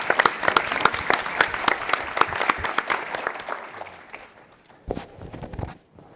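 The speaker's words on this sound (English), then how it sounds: "a round of applause for everyone" A panel-session audience at the OTC conference claps in a round of applause, with sharp individual claps thinning out toward the end and a few final isolated claps.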